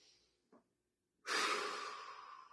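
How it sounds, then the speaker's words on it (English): A deep breath at the close of a flexibility and balance routine, a quiet inhale and a brief sniff, then a long, loud, close exhale that tapers slowly. "Take a deep breath."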